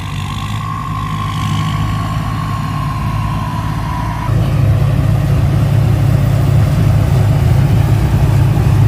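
A P. Charoen Phatthana 2020–2021 combine harvester harvesting RD49 dry-season rice, its engine a loud, steady mechanical drone that steps up to a heavier, louder roar about halfway through.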